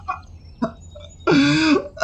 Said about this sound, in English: a wheezing, almost painful sounding cough is then heard